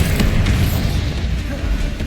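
The Bombarda spell in Hogwarts Legacy detonates as a loud, sustained booming blast with crackling debris, heavy and close, amid ongoing combat noise.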